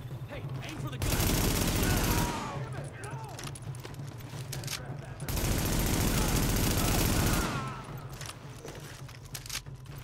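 Gunfire in The Division video game comes in two long, loud bursts of rapid automatic fire, each lasting about two seconds, separated by quieter stretches with scattered shots and game sounds.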